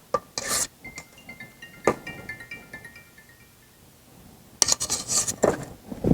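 A big offset spatula spreads frosting around the sides of a sourdough chocolate cake, giving soft scraping rubs and light metallic clinks in a few short bursts, close and alone.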